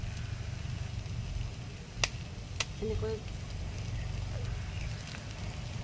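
Sonaru (golden shower) flowers frying in a pan give a steady, close sizzle, with a couple of sharp spatula clicks as they are stirred and a voice speaking briefly.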